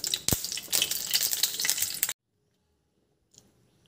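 Prawns sizzle and crackle sharply in white oil in a hot wok for about two seconds, close and loud, then the sound cuts to near silence with a faint rustle at the end.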